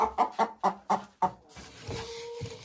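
A hen in a henhouse gives six sharp, evenly spaced clucks up close, then softer low clucking and murmurs from other chickens follow.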